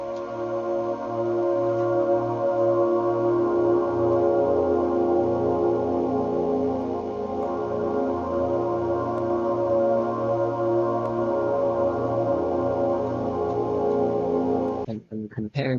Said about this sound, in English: the pad changes a little bit and then uses the same chop for the majority of the song